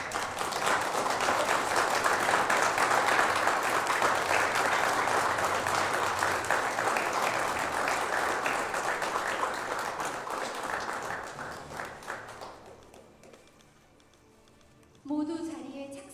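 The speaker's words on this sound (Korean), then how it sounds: "박수 한번 부탁드립니다." An audience claps at a Korea–Chile business roundtable event with the president present, loud sustained applause for about twelve seconds that tapers away, followed by a brief pause and then the start of an announcer's voice.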